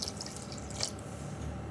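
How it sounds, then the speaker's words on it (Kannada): Half a glass of water is poured into a semolina (rava) and curd batter, giving a brief, soft trickle and drip with a faint splash near the middle, close and quiet. "ಅರ್ಧ ಲೋಟ ನೀರು ಹಾಕ್ತಾಯಿದ್ದೀನಿ."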